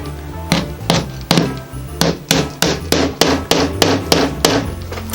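Close, loud hammer blows strike in a steady rhythm, about a dozen sharp impacts spaced roughly every half second, each with a short ringing decay and no talking between them.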